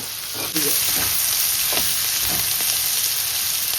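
Dried prawns frying with salt in a pan make a steady sizzling hiss that jumps louder after a brief clatter, with occasional stirring scrapes through the rest.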